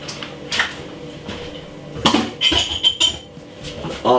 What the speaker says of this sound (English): you just want to cut up the sun-dried tomato like this